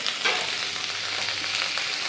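Masoor dal ingredients sizzle and fry steadily in a hot pan while being stirred, a close, continuous hiss with light scraping and no voices.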